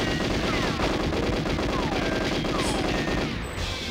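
Continuous rapid automatic gunfire from GoldenEye 007 on the Nintendo 64, dense and loud throughout, with overlapping shots and brief electronic tones over the steady barrage.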